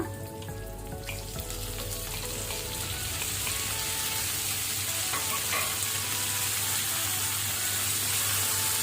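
Tomatoes fry with onions in hot oil, giving a continuous bright sizzle that swells slightly over several seconds, with a few light stirring scrapes and no speech.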